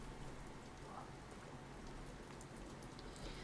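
Soft, steady rain falls outside as a faint, continuous patter of drops on surfaces, heard from indoors at a distance.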